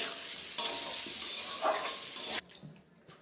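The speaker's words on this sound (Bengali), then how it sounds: "এবার আমি একটু ভালো করে কষিয়ে নেব সব মশলাগুলো একসাথে" Spices sautéed and stirred in a pan for a katla fish curry, a steady bright sizzle with scraping stir strokes for over two seconds, then dropping away to quiet clinks.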